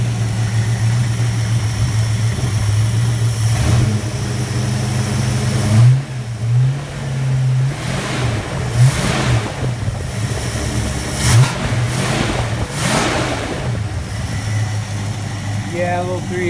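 A 318 V8 car engine idles with a deep, throbbing low note, then is blipped through several short revs in the middle stretch before settling back to a steady idle. The sound is close and loud throughout.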